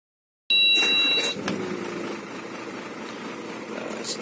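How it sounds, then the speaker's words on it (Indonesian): A Hino 500 FM260JD dump truck diesel engine cranks briefly and catches, then settles into a steady low idle close by, with no talk over it. "Nah, kita coba nyalakan mesinnya."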